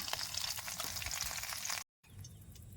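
Fresh river fish sizzle in hot oil in a village kitchen, a steady crackling fry that cuts out briefly before resuming more quietly.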